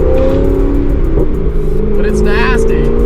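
A Corvette ZR1 engine idles loud and close with a deep steady rumble while warming up and gives a slight rev, as people talk over it.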